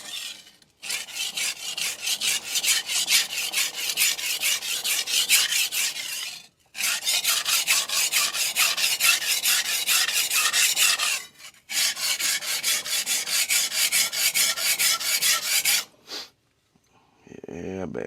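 A blade is stroked back and forth across a resin bonded DMD diamond sharpening plate with its burr flipped, giving steady rhythmic rasping scrapes in three long bursts separated by brief pauses, close and loud.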